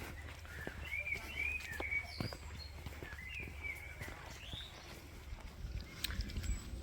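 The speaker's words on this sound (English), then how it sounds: "sounds of birds singing." Birdsong along a countryside walk through a river valley: several high chirps and short warbling phrases come and go at a moderate distance over a steady low rumble of outdoor background noise.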